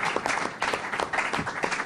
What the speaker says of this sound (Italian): la salutiamo con un applauso per la presenza